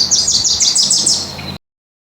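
A Wilson's warbler singing on the West Coast, a single loud, close, rapid series of bright chattering chip notes that carry on steadily for about a second and a half before cutting off.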